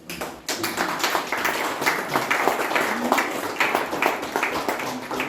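Applause from an audience at an art exhibition opening in Amarante, Portugal, a lively, close patter of many clapping hands that swells after a brief pause and continues steadily.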